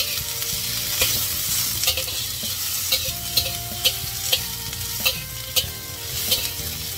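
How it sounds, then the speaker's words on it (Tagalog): Tri-colour bell peppers sautéing briefly in a pan for pork stir fry, a steady close sizzle with regular spatula clicks and scrapes tapping out a quick rhythm. "Para igisa-gisa lang siya, pero mga ano lang, mga 1 minute o below 1 minute."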